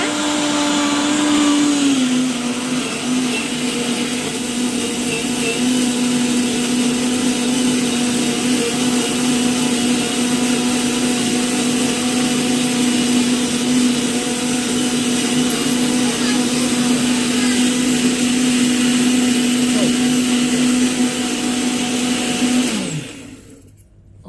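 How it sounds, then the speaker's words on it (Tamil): An electric mixer grinder whirs loudly and steadily while grinding a chana dal and urad dal chutney, a close, constant motor drone lasting about twenty seconds before spinning down at the end. "இப்போ நல்லா அரைச்சி எடுத்துக்கோங்க."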